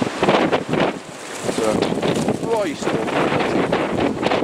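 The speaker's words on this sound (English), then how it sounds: "Big gust of wind there, loads of leaves." Strong gust of wind rushes through leaves outdoors near a quarry, a loud continuous blustery roar with rustling throughout, while a person talks briefly over it.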